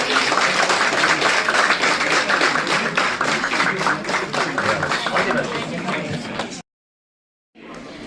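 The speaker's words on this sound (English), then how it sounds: "Round of applause for the team for achieving" Applause from an audience at a university innovation and entrepreneurship closing ceremony in Ladakh, a steady dense clapping that fills the room for over six seconds, then cuts to silence before resuming briefly.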